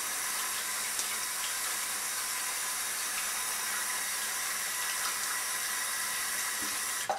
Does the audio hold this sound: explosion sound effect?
no